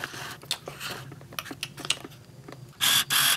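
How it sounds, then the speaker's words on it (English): Short mechanical clicks and whirs of a DSLR camera lens autofocus motor scattered across the clip, close and fairly quiet, ending with two louder bursts of buzzing motor noise. "This is the sound of my lens focusing."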